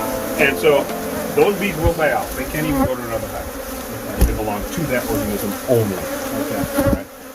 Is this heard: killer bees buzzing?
yes